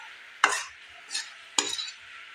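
A thickening coconut mithai mixture is stirred in a pan: three distinct sticky scraping strokes, close and fairly loud, separated by quiet pauses, with no talking.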